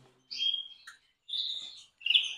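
Canaries chirp on an airy home veranda during the breeding season, giving three bright bursts of high, warbling twitter separated by short pauses, close and clear with no other sounds.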